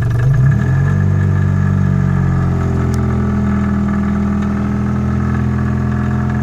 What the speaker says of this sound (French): il fait bien froid, on démarre au quart de tour